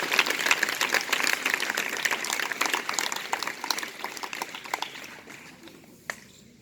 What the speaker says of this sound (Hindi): जोरदार तालियों से मंजू मैम का स्वागत करें